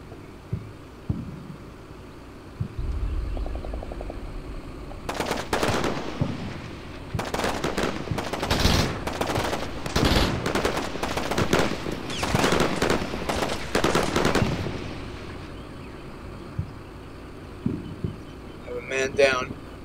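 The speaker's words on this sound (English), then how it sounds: "all directions open fire on the building that I'm in" Combat Mission Shock Force: NATO gunfire pours in from all directions onto a building. Scattered single shots open, then dense, loud bursts of automatic fire follow before thinning to a few sharp reports.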